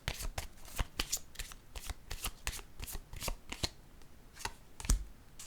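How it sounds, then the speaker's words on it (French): A deck of cards is shuffled by hand before a pink card is drawn, a quick run of crisp riffling flutters with sharp snaps, close and fairly quiet, with no talking. "Je pense que je vais piger une carte rose."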